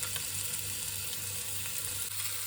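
Beef searing in a hot pan, browned on its last side, giving a steady soft sizzle throughout with no voices.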